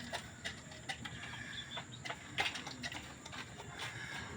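Wild junglefowl (labuyo) chickens make soft, scattered clucks and scratchy rustles in a quiet yard, with faint bird calls in the distance and occasional small knocks.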